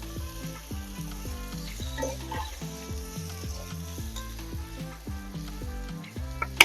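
Potatoes fry with already-browned onions in a pan of oil, making a soft continuous sizzle beneath prominent background music, with a brief clatter near the end.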